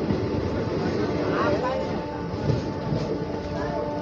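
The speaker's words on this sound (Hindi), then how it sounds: "यहाँ से अपनी ट्रेन का डिपार्चर हो चुका है" A train departing a junction station, a steady low rumble of wheels and carriages rolling throughout with faint clanks, heard from on board or nearby.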